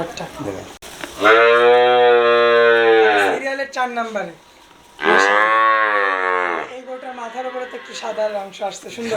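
A bull calf of Australian breed at a cattle market moos loudly in two long, drawn-out calls close by, separated by a pause, with people talking in between.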